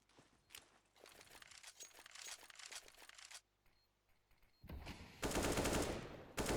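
AK rifle gunfire in a Counter-Strike match at a DreamHack Masters Malmö 2017 qualifier, with quiet rapid bursts mixed with footsteps, then a louder sustained burst near the end.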